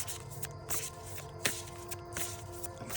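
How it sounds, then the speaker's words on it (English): A tarot card deck being shuffled, with soft riffling and papery slides in quiet bursts, one sharper snap in the middle, close and alone. "I always love the way that this deck shuffles."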